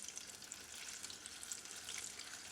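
Apple fritters frying in hot oil give a steady, dense sizzle with fine crackling pops throughout, fairly faint and continuous with no voices.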